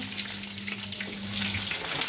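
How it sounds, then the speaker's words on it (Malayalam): Hot oil splattering as food fries in a pan, a steady crackling hiss with scattered pops, fairly quiet and heard alone without talk. "ഇവിടെയൊക്കെ എണ്ണ തെറിക്കുന്നു ഗൈസ്"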